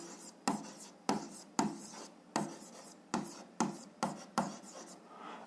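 A math equation being written by hand, roughly nine quick scratchy pen strokes in a steady rhythm, each a short rasp on paper, close and quiet with no talking.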